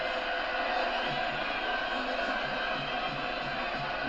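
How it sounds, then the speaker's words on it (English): Arena crowd roars and cheers steadily as fighter Nate Diaz reaches the ring for his bout with Paul, a dense continuous wash of many voices with no breaks. "Listen to this crowd."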